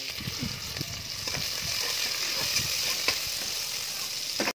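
Oil heats and sizzles in a pan on a smoky clay stove while pulao is being made, giving a steady, close crackling hiss with small pops throughout.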